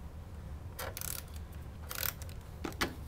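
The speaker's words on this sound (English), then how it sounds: "punch a 1 3/4 inch scallop circle out of gumball green" A handheld paper punch cuts a 1 3/4 inch scallop circle from gumball green cardstock, giving a few short, crisp mechanical clunks and clicks over a quiet, low room hum.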